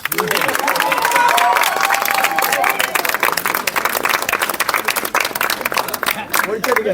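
An audience in a cinema theatre claps in a dense, rapid burst of applause that continues throughout, loud and close, with some cheering and crowd chatter mixed in.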